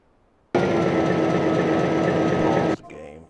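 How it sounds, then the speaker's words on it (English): A train spawned in a video game (DAE) gives a sudden loud, steady mechanical rumble with a high whine that cuts in abruptly, holds for about two seconds, then stops short, followed by brief softer sounds. "So we'll spawn this train in."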